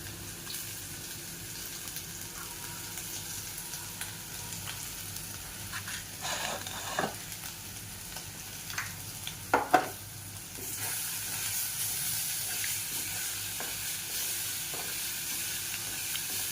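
A paste of tomato, garlic, ginger and coconut fries in a pan, giving a steady soft sizzle with a few scrapes of stirring midway and a louder hiss in the last seconds.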